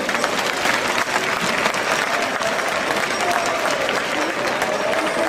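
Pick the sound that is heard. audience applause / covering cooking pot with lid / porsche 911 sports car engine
audience applause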